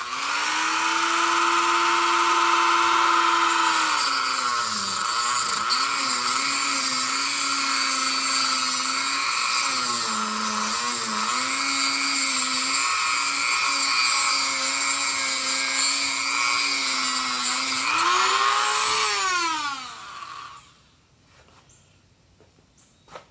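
A Dremel rotary tool with a cutoff wheel cuts steadily through pottery kiln element wire, a loud sustained high whine with small pitch dips under load, then winding down and stopping near the end.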